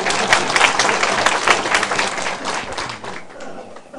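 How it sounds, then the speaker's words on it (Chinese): A lecture audience in a Taiwanese law-school session claps. The clapping is brisk and crowded, strongest at first, then thins and fades toward the end. "你免甲我拍手呀"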